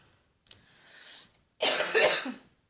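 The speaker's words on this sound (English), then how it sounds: "I'm coughing while trying to like cover my mouth" A few throaty coughs up close: a short faint one, a brief pause, then a louder burst of harsh, breathy coughing.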